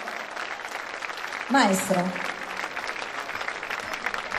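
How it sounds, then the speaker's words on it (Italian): Audience applause at a band concert during a 2015 patronal festival in Manfredonia, a steady wash of clapping throughout with a brief swell and a voice speaking over it. "Ancora tanti, tanti applausi ed ovazioni per loro."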